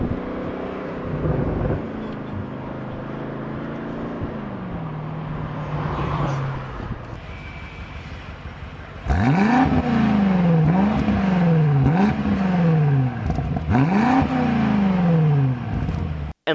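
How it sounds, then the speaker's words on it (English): A BMW's exhaust gives deep, rumbling burbles, first idling low, then revved again and again in rising and falling sweeps that sound loud and close. "The burbles are so deep too."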